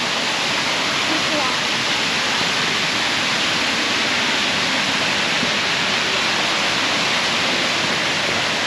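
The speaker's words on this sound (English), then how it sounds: "That's a cute little waterfall close to the road" A small roadside waterfall in Western North Carolina pours in a steady, dense hiss of falling water, close and continuous, with no gaps or other distinct sounds.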